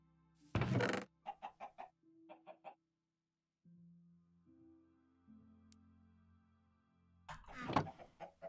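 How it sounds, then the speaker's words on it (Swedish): A chicken in the Minecraft video game clucks in a few short, quiet bursts among other faint game sounds, with a louder rustle at the start and end. "Och en kyckling fick vi också, det visste jag inte, det såg jag inte ens."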